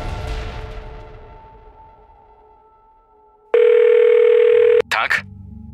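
A telephone sounds in a Polish horror story: a fading chime, then a loud steady electronic ring tone that cuts off into a short burst of clicks.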